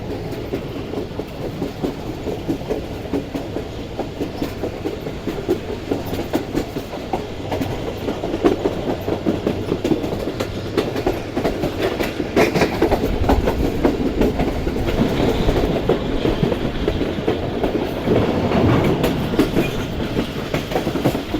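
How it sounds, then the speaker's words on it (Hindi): Karakoram Express passenger train pulling out of Sheikhupura Junction and gathering speed, a steady rumbling roll of wagons with rhythmic clickety-clack growing slightly louder and denser over the run, no voices. "तो अब जैसे ही ट्रेन हमारे शेखुपुरा जंक्शन से निकली तो स्पीड पकड़ना शुरू की है ट्रेन ने"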